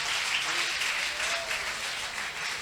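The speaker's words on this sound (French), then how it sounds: "Acclamez fort. Acclame Jésus." A church congregation applauds to acclaim Jesus, steady dense clapping from many hands filling the room, with no speech over it.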